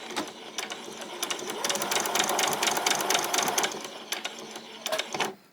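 A sewing machine stitches around ruffled shorts, running close and steady in a dense rapid patter that builds through the middle and ends with a few short bursts as it slows and stops.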